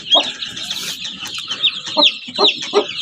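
A Kuchin breed hen clucks close by in short repeated pulses while her newly hatched chicks keep up a steady high peeping underneath, with no voices present.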